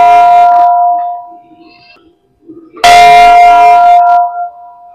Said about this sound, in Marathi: मंदिराच्या परिसरात या घंटा या ठिकाणी आहेत